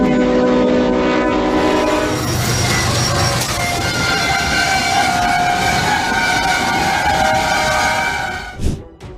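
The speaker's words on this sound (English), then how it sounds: "Although the train guard tried his best to signal, the train could not stop in time." A train sounds a long, loud horn blast, then rumbles past with rushing mechanical noise after striking a stalled truck on the tracks, ending in a few sharp bangs.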